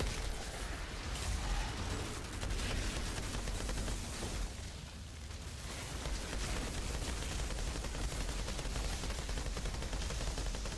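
Rapid gunfire from the video game Outriders rattles on without a break, dense and loud across the whole stretch, with a brief lull near the middle before the shooting picks back up.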